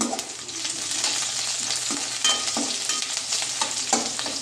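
Two green chillies frying in a pan, a continuous close sizzle with a spatula scraping and stirring every half second or so, no voices.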